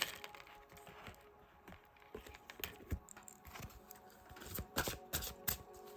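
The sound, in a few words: shuffling a deck of angel oracle cards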